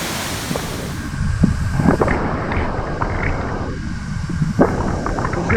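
Waterfall at Coed-y-Brenin in Wales, a loud, constant broadband rush of falling water mixed with gusty wind buffeting the microphone, steady throughout with no voices.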